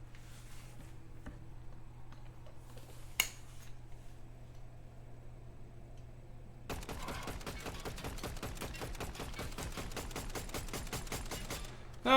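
Rapid automatic gunfire in the Fortnite video game, a fast, even string of sharp shots starting about halfway through and continuing to the end, preceded by quieter scattered game sounds and a single earlier shot.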